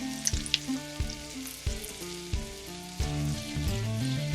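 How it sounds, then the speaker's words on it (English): Salmon fillet frying in a Pantelligent smart pan, a steady sizzle under a run of sustained tonal notes, with a louder, denser hiss swelling in the last second and a half. "so I put the salmon in there"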